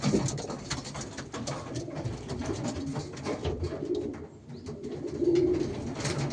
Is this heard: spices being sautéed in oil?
no